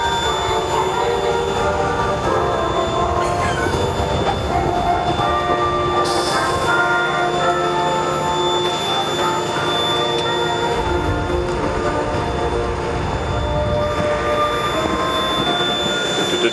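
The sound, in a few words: airplane being driven down a road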